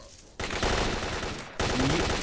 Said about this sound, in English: Are you shooting me?